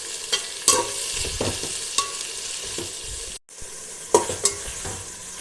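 Onions browning in oil in a pan for chicken biryani hiss continuously up close, with repeated sharp spatula scrapes and taps against the pan breaking through the sizzle.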